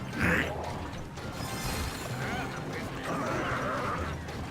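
A video game battle plays with an Executioner unit's attack, mechanical clanking and whirring effects, a brief sharp hit near the start, and busy layered sounds throughout.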